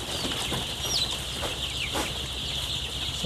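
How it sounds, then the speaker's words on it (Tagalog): Chickens clucking and pecking inside a poultry house, soft scattered calls and occasional wing flutters over a steady ventilation fan hum, close and continuous. "Tutuka manok."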